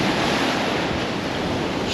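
Sea surf rolls onto the beach at Anderby Creek in a broad, steady roar, loud and close, with wind buffeting the microphone throughout.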